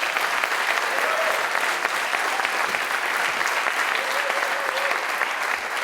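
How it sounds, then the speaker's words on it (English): A conference audience claps for the organizers in a dense, steady burst of applause that fills the room for several seconds before tapering at the end. "Give a round of applause for the organizers real quick."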